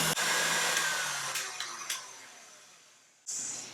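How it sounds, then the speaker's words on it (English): An electric mixer whisks egg whites with sugar for a meringue, giving a steady loud whirring hum that fades gradually and then restarts abruptly near the end. "Then continue beating until the egg whites start becoming thicker."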